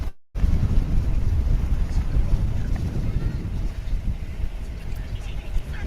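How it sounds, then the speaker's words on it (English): Strong gusty wind buffets an outdoor microphone beside a runway at DFW airport, a dense low rumble that swells and dips continuously throughout after a brief silent gap at the start. "Starting to get buffeted by the wind here."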